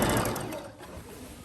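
A sewing machine stitches a shirt or kameez neckline in a quick continuous run, its dense mechanical whir steady and close, thinning slightly toward the end, with no talking over it.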